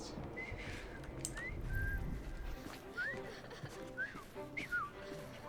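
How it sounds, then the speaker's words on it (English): Short whistled notes from a character in Assassin's Creed Syndicate, several brief rising and falling pitches spread across a few seconds, moderately loud over faint ambient game background. "I've just learned to whistle."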